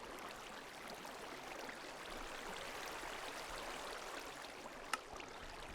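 Water flows steadily in a Minecraft world, a continuous soft rushing like a small stream that holds an even level throughout, with one brief click near the end.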